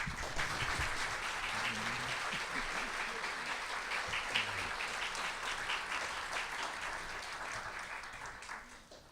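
A large audience in a nearly full auditorium applauds at the end of a lecture, a dense, even wash of clapping that holds steady and then slowly tapers off.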